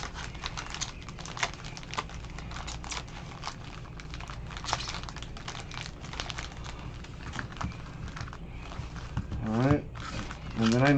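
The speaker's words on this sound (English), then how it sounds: "We'll shuffle them up a little bit." Trading card packs from a baseball card box are shuffled by hand, making dense, rapid crinkling and rustling of foil wrappers that carries on steadily and close, with speech in the background.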